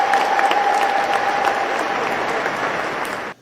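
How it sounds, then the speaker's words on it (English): Crowd applause at a church gathering protesting the finance bill, a short burst of dense clapping from many people that holds steady for about three seconds and then cuts off abruptly. "Let's give him a round of applause for expressing himself."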